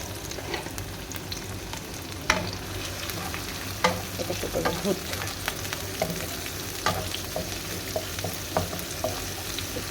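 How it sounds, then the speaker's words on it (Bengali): Onions frying in a pan: a steady hiss of sizzling oil with intermittent scraping clinks of a spatula stirring, close and continuous, with no one talking. "লাল লাল করে ভেজে নিই একটু একটু হালকা করে লাল হয়ে আসছে"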